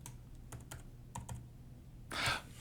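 A few faint, separate keystrokes tap on a computer keyboard while a word is typed, ending in a louder brief rustling burst.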